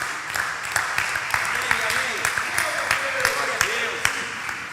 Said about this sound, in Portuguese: Forte esse aplauso à palavra de Deus.